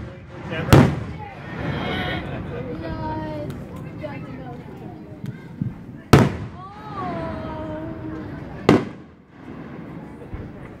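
Fourth of July fireworks launch and burst in three loud, sharp booms spread across the stretch, with crackling and whistling trails between them while people chatter and exclaim in the background.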